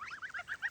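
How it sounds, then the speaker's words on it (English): A crested goose honks in a run of several nasal calls in close succession, near and fairly loud, among ducklings and goslings by a pool and grassy area. "It looks like a crested goose."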